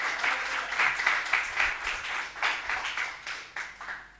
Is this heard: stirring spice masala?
no